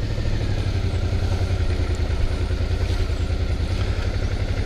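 A Suzuki V-Strom DL 650 motorcycle idles close by as the heavy bike is turned around on a rough road, its engine giving a steady, even low rumble with no voices over it.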